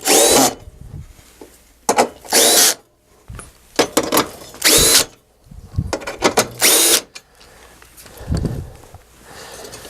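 Bolts fastening a blower to its bracket are driven tight with a power drill, several loud close whirring bursts separated by short pauses, with a few softer clicks between.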